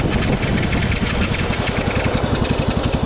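Pocket bike engine running close by, a loud steady buzzing drone with a fast even pulsing throb, alone with no voices.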